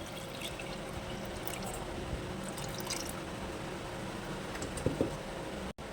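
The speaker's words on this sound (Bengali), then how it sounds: "মটরটা যাতে ডুবে থাকে সেই পরিমাণ অনুযায়ী এখানে পানি দিয়ে দিয়েছি" Water trickling and dripping into a pressure cooker over dried peas, a soft steady liquid wash with a few light clinks near the end, quiet and close.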